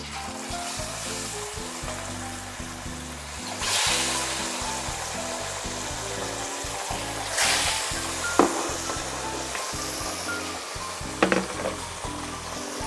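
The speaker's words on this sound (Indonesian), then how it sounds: "Digoreng sampai matang" Milkfish fries in hot oil with a steady, dense sizzle and a few brief louder crackles. Background music plays underneath throughout.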